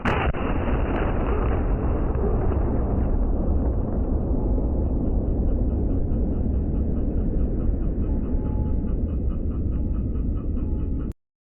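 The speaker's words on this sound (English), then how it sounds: "The plasma channel didn't penetrate the front of the CRT, but simply went around it and connected directly with the deflection circuits inside." A Lorentz plasma cannon discharging into a CRT television, a loud sustained roaring crackle that holds steady for about eleven seconds before cutting off abruptly, with no voices over it.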